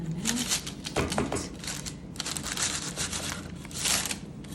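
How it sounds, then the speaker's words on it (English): A knife slicing regular dinner rolls in half for slow cooker focaccia gives a close, continuous crackly scraping and crunching that swells and fades, with no talking. "Take a trusty knife, and you cut in the middle."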